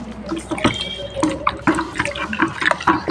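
Water poured into a container to mix home fabric dye for re-colouring old shirts, a close splashing and trickling fill with irregular bursts throughout.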